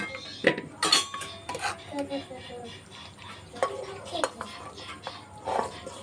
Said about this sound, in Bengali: আমি প্রেসার কুকারের মধ্যে মাখিয়ে নেব। আলুগুলো দিয়ে দিচ্ছি।